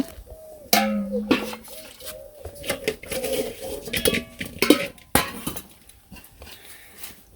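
Chitoi pitha rice dough being worked with hot water in a pot, with irregular clanks, scrapes and clinks of utensil against metal, some loud and close, others softer.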